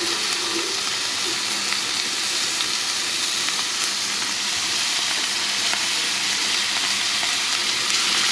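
A sous vide meat cut sears in a hot pan, producing a continuous loud hiss and crackle of frying fat that stays even and close from start to finish, with a few faint pops.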